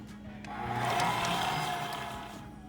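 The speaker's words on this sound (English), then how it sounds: "just gonna add this into our stand mixer with the paddle attachment" A stand mixer with a paddle attachment beats butter and sugar at low speed, a motor whir that swells in the middle and eases off, close and moderately loud with no talking.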